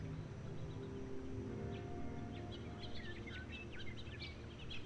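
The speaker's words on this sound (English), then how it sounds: "Especially with like the bird sounds and stuff as well." Birds chirping outdoors: faint, scattered high tweets and short calls come in the second half over a steady low background rumble, distant and quiet with no speech.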